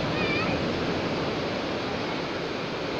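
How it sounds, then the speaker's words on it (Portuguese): Large waves breaking on a beach make a steady, loud broadband roar of surf that fills the whole stretch without pause, with a faint voice briefly at the start. "Gente, o tamanho das ondas tá enorme."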